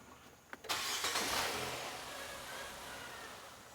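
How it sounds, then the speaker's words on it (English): A Nissan Sentra engine cranks briefly after a couple of clicks, then catches and fires up with a loud surge that settles into a steady, slowly fading idle, close by and without talk. "Okay, I'm gonna start the engine."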